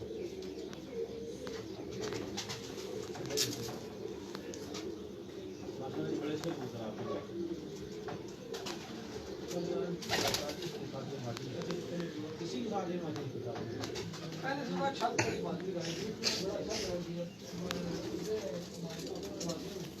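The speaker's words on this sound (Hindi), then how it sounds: "ये जी इनके जोड़ों वाले कबूतर हैं" Paired pigeons on a rooftop coo in soft low repeated calls, mixed with occasional chirps, while people talk nearby over the birds.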